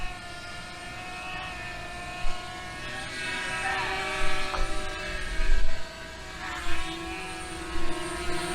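A DJI Mavic Mini drone in flight, a steady high-pitched propeller whine with stacked harmonic tones that shift in pitch as it maneuvers, interrupted by several short louder bursts of handling or wind noise.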